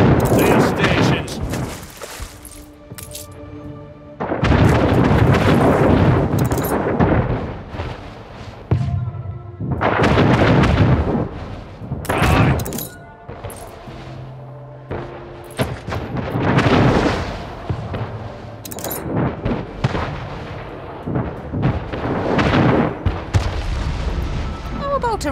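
A ship comes under cannon fire in Anno 1800, with repeated heavy booms and volleys of gunfire arriving in waves across the scene, some rolling and distant, others close and sharp, while voices speak in between.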